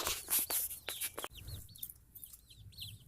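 Young egg-layer chickens about 25 days old peep and cluck close by in short, repeated calls, with a brief rustling of movement and no voices.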